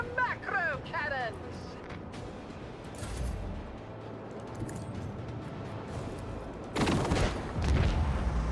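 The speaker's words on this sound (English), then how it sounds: "Engage the macro cannons." Macro cannons firing in the video game Rogue Trader, a steady roar of rumbling gunfire with a louder blast near the end, while someone speaks over the battle at the start.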